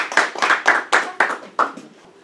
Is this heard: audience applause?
yes